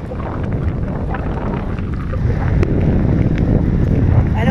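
Steady wind rushes over the microphone while cycling downhill on a road in Burgundy, a constant close roar that grows slightly louder partway through.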